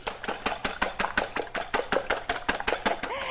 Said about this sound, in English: 4 eggs, just pop them into a bowl and then take a whisk and beat them up